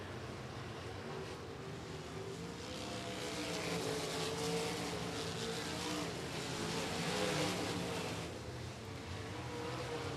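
Race cars at Golden Triangle Raceway Park lap the track, engines droning at a distance and swelling as a pack passes, then fading, with no talk.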